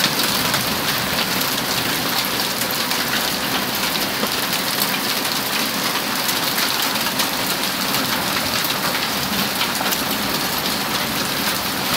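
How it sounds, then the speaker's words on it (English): Dense, steady pelting of pea-sized hail drumming on surfaces during a storm, a loud continuous broadband clatter with no gaps and no talking. "Look at the hail!"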